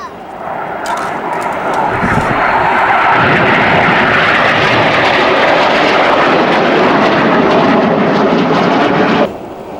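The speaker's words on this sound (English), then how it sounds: "All 4 aircraft then collapsed towards each other as they performed the sensational Jippo break." Hawker Hunter jets, four aircraft in a display formation performing a break manoeuvre, pass with a loud, sustained roar that swells and holds for several seconds before fading sharply near the end.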